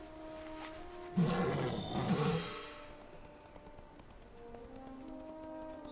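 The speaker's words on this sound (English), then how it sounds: "You can see it's starting to rain here." Faint, steady rain patter in World of Warcraft, heard in a Horde town as evening falls. A louder roaring burst in the game sits briefly over it early on, and the rain continues quietly beneath.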